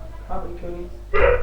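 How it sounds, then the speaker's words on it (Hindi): A dog in Germany barks once, a short sharp bark near the end, following a man's brief speech. "जर्मनी में भी कुत्ते भौंक रहे हैं."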